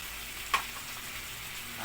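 Pinakbet vegetables fry in a pan with a steady broadband sizzle as tomatoes go in, a single brief clatter marking the addition partway through, then the hiss continuing evenly and close.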